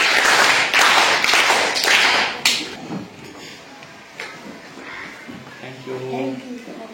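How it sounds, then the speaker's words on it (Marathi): A group of children clapping together in a primary school classroom, a dense burst of applause lasting a couple of seconds before fading into room noise and speech. "सगळ्यांनी टाळ्या वाजवायच्या"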